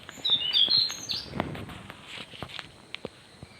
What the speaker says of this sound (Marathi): इथे पक्षी बिक्षी ओरडत असतात